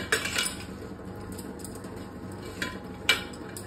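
Cutlery and dishes clink at a kitchen sink during washing up, with a few sharp metallic clinks standing out over a faint, steady background, no voices.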